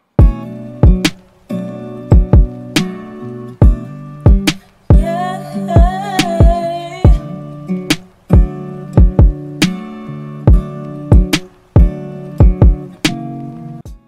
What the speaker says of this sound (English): The kick and the snare pattern sounds like this.